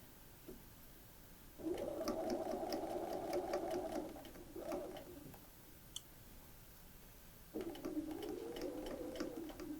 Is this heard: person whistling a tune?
no